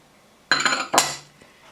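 A metal spoon scrapes and clinks twice in a pan while raw chicken pieces are mixed with water, ginger-garlic paste, green chili paste, salt, coriander powder and vinegar; two close, bright bursts with a short fading ring.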